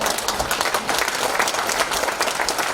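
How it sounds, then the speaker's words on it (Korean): Congregation applauding in blessing at a Korean church memorial service, a full, steady wash of clapping that stays loud and even throughout. "우리 한번 박수로 축복하겠습니다"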